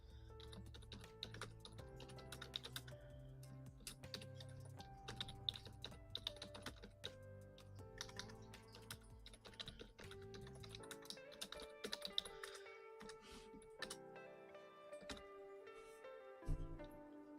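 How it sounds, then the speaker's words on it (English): A computer keyboard clatters with steady, fast typing, the keystrokes continuous and close over a low background of music. "I hope the clicking of my keyboard isn't too loud."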